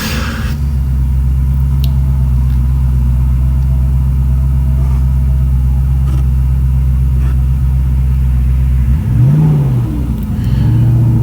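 A 1983 Ford Mustang with a supercharged 302 crate V8 pulls hard through the gears, a loud close engine drone climbing in pitch, then dipping and rising again at the shifts near the end.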